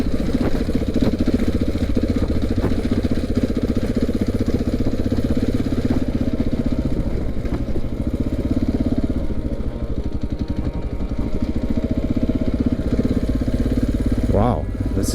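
A KTM 690 single-cylinder motorcycle engine runs steadily at idle on the Schnebly Hill off-road trail, a close, continuous low rumble that carries through the whole stretch without pause.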